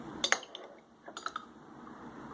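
A metal spoon clinks against a dish while scooping out saved yogurt culture for homemade yogurt: a quick cluster of bright clinks, a pause, then a second short cluster, close and fairly quiet.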